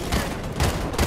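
Gunfire in the Fortnite video game, three loud bursts in quick succession about half a second apart, close and clear.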